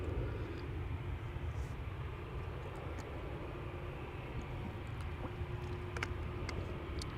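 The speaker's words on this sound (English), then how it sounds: "Now entering from the right is KLM 787 going to Sint Maarten" A KLM Boeing 787 taxis at Amsterdam Schiphol Airport, producing a low, steady engine rumble from some distance, faint and unbroken, with a few small clicks over it and no speech.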